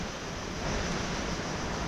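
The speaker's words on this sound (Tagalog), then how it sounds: "Malabo tapos malakas yung alon." Steady broadband roar of strong sea surf in the rain, dense and continuous, like heavy waves washing in close by with no talking.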